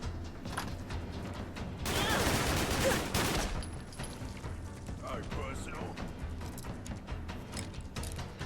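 Gunfire in Fallout London, played in survival mode, comes as a loud burst of shots midway, with quieter mechanical clatter before and after.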